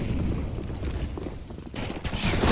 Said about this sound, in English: they're taking gunfire